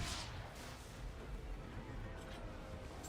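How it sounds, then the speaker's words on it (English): Ship cannons fire during a naval battle in an Assassin's Creed video game. The deep, rumbling booms merge into a sustained roar, with a sharper burst at the start. "Fire the cannons."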